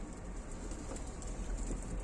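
A caught grey tumbler pigeon coos softly and faintly, low murmuring calls over a steady background hum.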